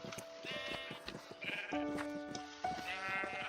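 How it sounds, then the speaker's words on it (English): Sheep bleating repeatedly in a survival-mode farming video game, several overlapping nasal game bleats close and loud over a steady background, with no talking. "I'm going to go ahead and release the sheep on this side."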